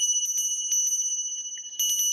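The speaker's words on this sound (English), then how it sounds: "This bell I hold here is one of the few remaining of those bells." A small handheld souvenir bell cast from Civil War church bell metal rings with a bright, sustained pure tone and quick repeated strikes, jingling steadily and close with a louder flurry near the end.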